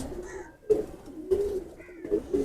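Teddy pigeons from a breeder's loft coo in repeated low, throaty phrases, fairly close and clear, with short pauses between bouts and some faint higher bird calls mixed in.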